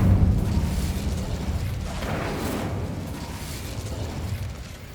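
Fire spell cast in the Hogwarts Legacy video game: a dense, rumbling whoosh with a burst near the start and a brighter flare midway, sustained and loud throughout with no talk.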